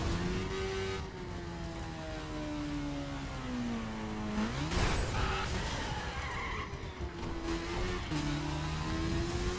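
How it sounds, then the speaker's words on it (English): A Lamborghini in a video game skids and revs, with a long sustained tire screech, an engine whine that rises and falls and surges again midway, loud and continuous, with no talking. "I'm in my Lamborghini."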